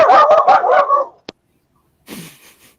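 A burst of rapid dog barks, loud and close, then a brief pause before a softer yip and whimpering bark.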